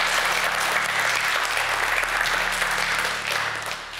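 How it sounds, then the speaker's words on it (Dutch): An audience at a fan event gives dense, sustained applause, with many hands clapping at once that fade slightly toward the end. "Applaus."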